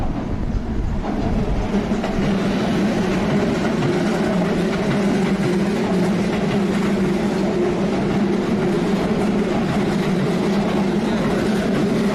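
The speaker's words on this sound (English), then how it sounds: "Noisy train." A train in Osaka runs past with a steady, loud roar and rumble that hold constant throughout, with faint rhythmic rattling of the cars.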